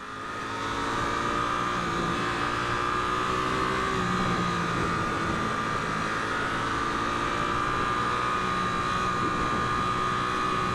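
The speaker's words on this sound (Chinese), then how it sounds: "引擎的声浪的声音是，我觉得也还不错，还算好听的，就是以双缸来说算是好听的" A Suzuki GSX-8S twin-cylinder motorcycle engine runs loud and close, its throaty drone holding high revs steadily for about ten seconds with no one speaking.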